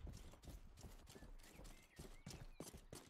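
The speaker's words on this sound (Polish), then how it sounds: "No i ze wszystkich koni to musi być koń strażnika." Hooves of a guard's horse in the medieval-style game Rustler clip-clop in a steady, busy rhythm, loud and close, with faint chirping in the background and no talk.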